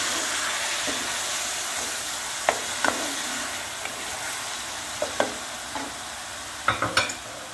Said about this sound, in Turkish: Domateslerimi ilave ediyorum. Karıştırıyorum.